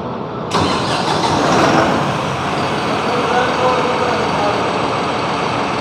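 A New Holland 5620 CRDI tractor engine cranks and catches, then settles into a steady, smooth idle that continues to the end.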